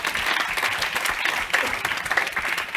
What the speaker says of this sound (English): Round of applause for both teams.